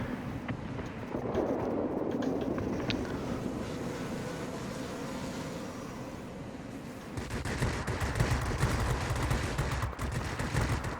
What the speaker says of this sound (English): Finding the sweet spot for these cannons.